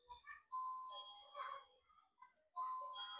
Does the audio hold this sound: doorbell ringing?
yes